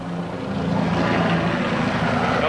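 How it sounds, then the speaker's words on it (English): Military helicopters fly overhead during combat in Baghdad in 2003, giving a loud, steady engine and rotor roar that fills the whole moment with no voices. "Helicopters now trying to search, see where the fire's coming from."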